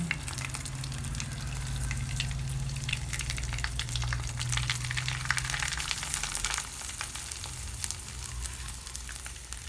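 Food fries in a pan as part of cooking a spicy pigeon-pea and seafood curry, a steady dense crackling sizzle that fills the whole stretch with a low rumbling hum underneath and no talking.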